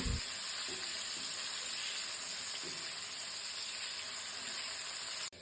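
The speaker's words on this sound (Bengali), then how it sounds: "কিছুক্ষণ নেড়ে আলুগুলোকে হালকা একটু ভেজে নিব" Potatoes frying lightly in a little hot oil in a pan, a faint, even hiss of sizzling with a few soft stirring knocks, steady throughout until it cuts off at the end, no voices.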